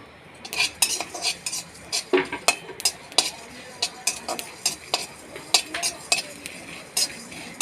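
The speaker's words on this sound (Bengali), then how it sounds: "কড়া বসিয়ে দিয়েছি, একটু ভেজে নেব, ভেজে গুলিয়ে নেব মশলাটা" Cumin, coriander, fennel and a dried red chilli are dry-roasted in a kadai, with a spoon repeatedly scraping and clinking against the pan in a loose, steady rhythm, close by.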